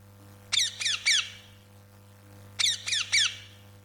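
Two bursts of three sharp, shrill parrot squawks each, loud and close against a quiet, low hum.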